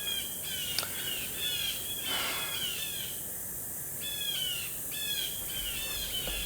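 Birds chirping and calling out in the countryside, repeated short whistled phrases in bursts with brief pauses, steady and moderately near over a low outdoor background, with no talking.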